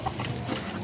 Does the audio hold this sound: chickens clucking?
yes